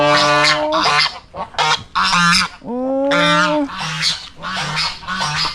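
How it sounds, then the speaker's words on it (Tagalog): Farm geese and fowl honk loudly in a rapid, repeated series of close calls, with one brief voice exclamation among them. "Kain ko lang yung aking mga ibon. Namiss ko sila."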